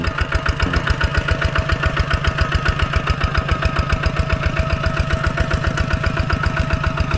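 A Kubota tractor's diesel engine chugs at a steady idle, with a rapid, even knocking rhythm, close and loud throughout.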